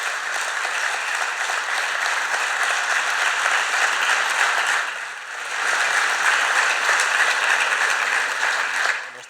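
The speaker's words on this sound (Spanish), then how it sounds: "un fuerte aplauso para él" Sustained audience applause fills a bullfighting festival gathering in Villaseca de la Sagra, a steady dense roar of clapping that dips briefly midway before swelling again and fading at the end.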